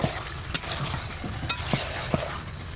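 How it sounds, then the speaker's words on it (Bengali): Goat meat and spices are stirred and fried in a pan on a clay stove, with a soft sizzle under scraping spoon strokes and a few sharper clinks against the pan. "এখান থেকে দিচ্ছি এক চামচ জিরা বাটা দিয়ে আবারও একটু ভালোভাবে নেড়ে দিচ্ছি"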